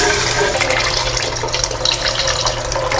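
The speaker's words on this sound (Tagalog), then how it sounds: "Buhos ko na po." Boiled water, eight glasses' worth of chicken stock, poured into a cooking pot for chicken sotanghon: a loud, steady, close gushing splash that runs without a break and with no voices.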